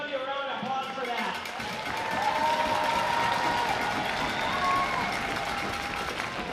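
Crowd applause with some cheering at a hockey game between the Reno Ice Raiders and Chicago Shamrocks, a steady, fairly loud wash of clapping filling the arena with voices mixed in.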